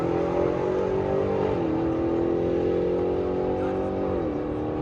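Loud, sustained engine roar from a Dodge Hellcat in a quarter-mile drag race, pitch climbing steadily with two brief dips at gear shifts.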